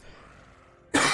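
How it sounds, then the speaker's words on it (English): A single loud, harsh cough bursts out at the very end, following a quiet stretch of low room noise. "Sorry about the cough."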